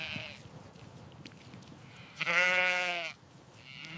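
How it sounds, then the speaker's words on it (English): A single drawn-out sheep bleat rings out clearly in the middle, surrounded by quiet outdoor background noise. "The sheep graze peacefully in the meadow."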